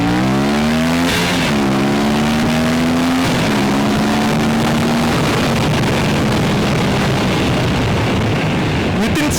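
Aprilia RS457 motorcycle fitted with an SC Project exhaust, accelerating hard through rising gears, a loud, close engine note climbing and shifting amid heavy wind rush.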